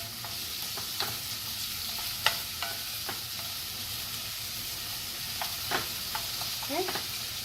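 Onions sautéing over high heat in a pan, a steady soft sizzle with occasional clicks and scrapes of stirring, close and continuous with no talking.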